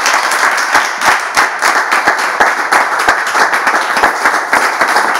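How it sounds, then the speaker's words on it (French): An audience at a church gathering applauds a pastor's talk, a dense, lively burst of many hands clapping close by, sustained and even for several seconds with faint voices mixed in. "On peut bien applaudir, s'il vous plaît."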